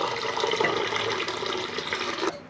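Water is poured into a pot of rasam during home cooking, a steady broadband splashing and trickling that runs for about two seconds before cutting off abruptly.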